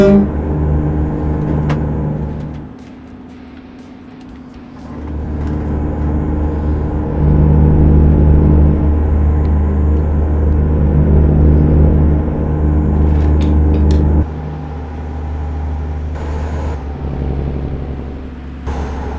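A heavy truck in a trucking video game, nearing Salt Lake City, rumbling with a continuous low engine drone that dips quieter briefly then swells louder, steady and close, with a few faint clicks and no speech.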